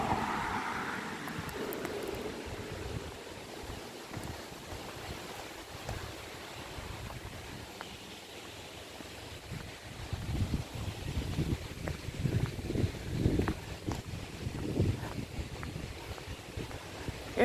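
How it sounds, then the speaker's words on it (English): Water rushes at Dickson Dam as a steady, distant broadband roar, fairly faint. Occasional low thumps and gusts come through later on. "Here's the big dam, guys."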